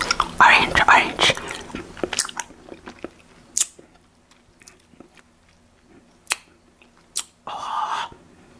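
Close, wet chewing of a sour Warheads Chewy Cube candy, with soft bites and mouth clicks; the chewing is busy at first, then sparse clicks and smacks follow over quiet, ending in a brief rustle.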